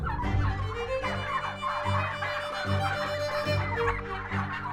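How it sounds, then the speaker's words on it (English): Steady chorus of wild turkey calls with low, repeated clucking pulses and a busy background of overlapping bird noise, fairly continuous throughout, in the Great Smoky Mountains. "The male turkeys, adorned with fan-like tail feathers and vibrant colors, engage in a complex mating ritual"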